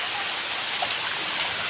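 Steady rain pours down outdoors, a dense, even hiss of drops hitting surfaces that stays constant and fairly close throughout, with no voices.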